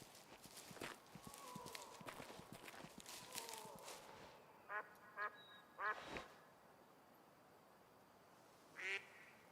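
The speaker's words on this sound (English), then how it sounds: "Ducks flying around." Among footsteps in the Alaskan lakeside lowlands of the hunting game Way of the Hunter, ducks let out a few scattered, short raspy quacks. The quacks sound fairly distant and are spaced seconds apart.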